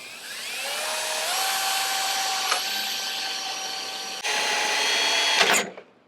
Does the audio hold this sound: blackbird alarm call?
no